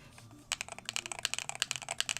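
Loud, rapid clicky typing on a 68-key, 65% mechanical keyboard with Cherry Blue switches, a quick irregular run of sharp keystrokes starting after a brief quiet moment, close and with no talking.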